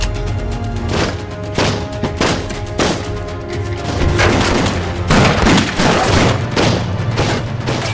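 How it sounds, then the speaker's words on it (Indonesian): A burst of repeated gunshots rings out in a film shootout, sharp cracks mixed with heavier booms in an irregular volley, loud and close. "hingga terjadi aksi tembak-tembakan"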